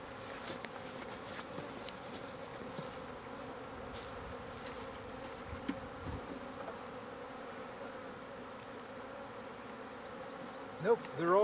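A captured swarm of honey bees hums in a hive box in northeast Washington, a faint, steady, dense buzz throughout with occasional nearer passes and a brief handling noise at the end.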